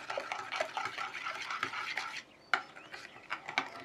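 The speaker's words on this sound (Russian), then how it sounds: "Добавляем пюрированные абрикосы. Все перемешиваем." Apricot pancake batter made with kefir and pureed apricots being stirred in a bowl, a soft scraping and swishing that rises and falls in quick strokes, close and fairly quiet with a brief pause midway.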